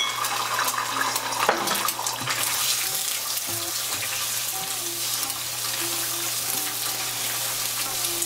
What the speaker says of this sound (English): Heat white oil in a pan and then add the eggs and scramble it.